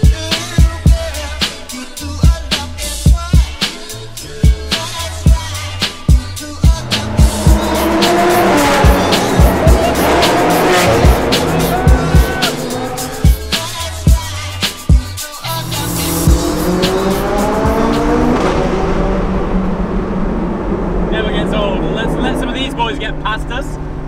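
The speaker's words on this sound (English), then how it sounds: "Insane hurricane exhaust." McLaren 675LT supercar driven hard among a convoy of about 20 supercars, its exhaust roaring loudly as it accelerates through rising gears, with sharp shift cracks and pops along the way, close and continuous.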